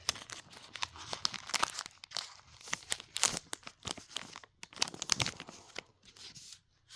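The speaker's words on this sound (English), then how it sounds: "so we just gently slide them out of this pack here" Pokémon trading cards from a Galarian Rapidash pack slide out through a cut foil wrapper, giving close, irregular bursts of crinkling and rustling with short pauses between them.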